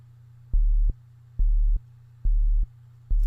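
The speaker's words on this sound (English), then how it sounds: "just a sub bass, a sine wave playing as a sub kick" A deep sub-bass sine kick thumps in a steady rhythm in the style of The Last of Us Part II music, four booming pulses about a second apart over a low, continuous droning hum, with no voices.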